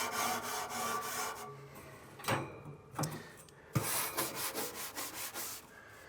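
A short wire-bristle brush scrubs the grates of a Yoder YS640S pellet grill in steady, close back-and-forth strokes, with a few brief pauses and sharper clacks between bursts of scraping.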